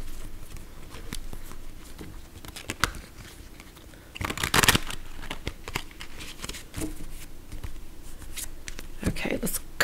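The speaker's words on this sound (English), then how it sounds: "Shuffle, shuffle." Tarot cards being shuffled by hand, a run of soft riffling and slapping bursts with a louder flurry midway, while someone talks.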